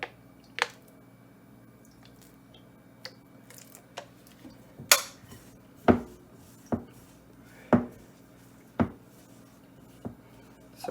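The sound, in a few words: mixing coconut gizzada pastry dough by hand in a bowl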